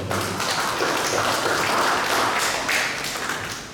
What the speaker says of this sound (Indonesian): Tepuk tangan dulu buat Tuhan Yesus yang baik